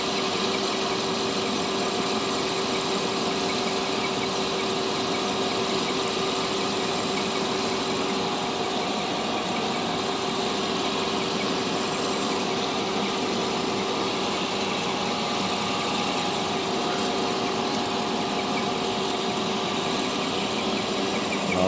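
A metal lathe cutting dry with carbide-tipped tools while parting off a brake part, giving a steady, continuous machine drone with a constant hum and faint tonal whine from start to finish, with no talking.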